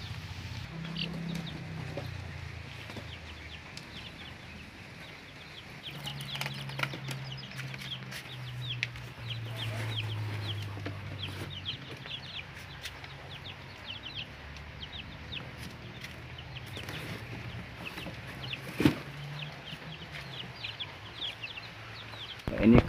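Colorful dyed baby chicks cheeping and clucking in a small box throughout, soft and near, under intermittent talk in Indonesian.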